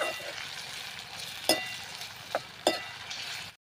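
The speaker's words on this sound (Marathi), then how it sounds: "कांदा आणि टोमॅटो छान आपल्याला परतून घ्यायचा आहे" Onion and tomato sizzling gently in a pan, with a soft frying hiss and a few sharp spatula clinks against the metal, close by, ending abruptly, no talking.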